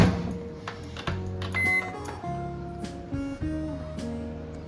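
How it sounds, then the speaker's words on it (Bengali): A microwave oven runs with a steady low hum and faint mechanical rattling while food heats inside, a few soft clicks and bumps breaking the drone. "সো এটা আমি ডাইরেক্ট মাইক্রোওয়েভেই বসিয়ে দিলাম"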